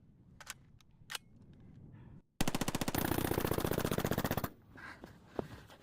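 Sustained rapid automatic gunfire from a video game, a dense burst lasting about two seconds, loud and alone, preceded by a few scattered single shots and followed by quieter game sounds.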